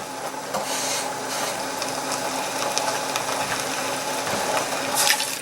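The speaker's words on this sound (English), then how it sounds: "And half a cup of water." Half a cup of water pours into a pan of rice for stuffed peppers, a steady splashing trickle heard close up with nobody talking.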